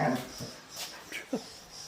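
Dogs at a barn let out faint, short whimpers and whines, a few brief high cries scattered over quiet background noise.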